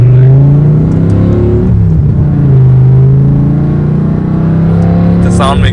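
A 2006 BMW M5 with its V10 running, a loud close engine drone with shifting pitch and a brief rise in revs midway, low and steady throughout.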